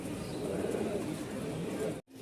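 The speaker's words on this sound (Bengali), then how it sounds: "কবুতর অনেক কবুতর আছে" Rajshahi Giribaz pigeons in a loft coo in a soft, continuous low murmur, close and steady, cutting off abruptly near the end.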